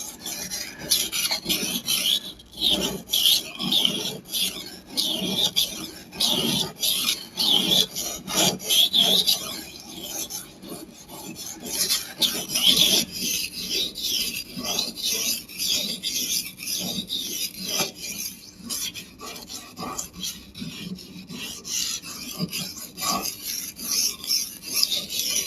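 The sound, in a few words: sharpening a long knife on a store-bought whetstone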